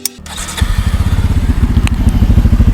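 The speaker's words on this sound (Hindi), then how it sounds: "तो ये है इसका आइडलिंग साउंड" A Bajaj Pulsar F250 motorcycle's exhaust idles close by after a quick start, with a loud, steady, lumpy pulsing throb.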